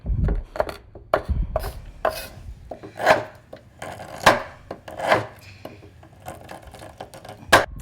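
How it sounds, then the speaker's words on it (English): Fair trade Callebaut bittersweet chocolate chopped with a knife on a board, loud close thuds and crunchy cuts in irregular bursts, some quick strokes and some heavier single chops, with no talking. "And the bittersweet chocolate will be a little bit harder to chop than the semi-sweet."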